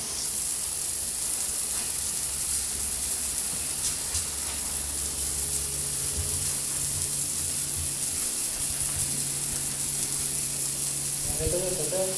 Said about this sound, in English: It's time to moisten the floor. So we've got the hose pipe